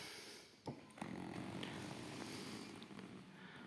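The built-in electric motor of a leather recliner armchair tilts its backrest, giving a quiet, low, steady hum that starts after a soft click and continues for a few seconds.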